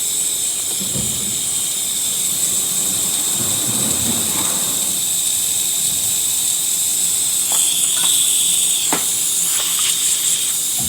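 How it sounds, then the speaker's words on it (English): A steady, continuous hiss of steam from the wand of a DeLonghi Magnifica XS espresso machine that had trouble building pressure, holding close and level throughout with a few brief clicks and rattles near the end. "As you can see, nice steady steam coming out through the machine."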